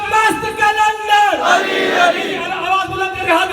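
A large crowd at a Shia majlis in London chants loudly in unison, answering a slogan with sustained shouts that swell and fall, voices blending into a dense roar.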